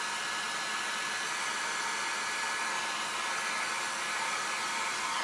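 A small travel blow dryer used for drying alcohol ink on canvas runs as a steady, loud, unbroken whoosh of air with no pauses.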